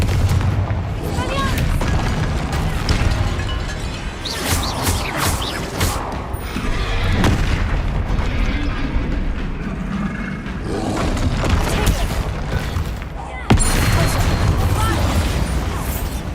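Confringo fire spells blast in Hogwarts Legacy combat against a troll, with repeated booming explosions and impacts at irregular intervals and a sharp burst near the end, while a player's voice talks over the fight.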